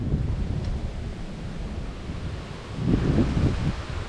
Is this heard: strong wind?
yes